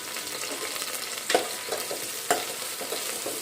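Onions fry in a pan with a steady, moderate sizzle, and two sharper scrapes of a spoon against the pan mark the stirring; close, with no one talking.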